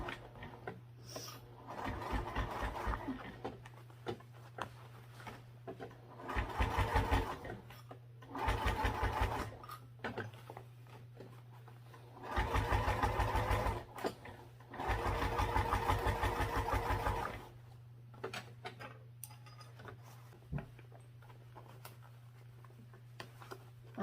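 A sewing machine sews a lining seam in several short, loud bursts of rapid stitching, with quieter pauses and a steady low hum between them.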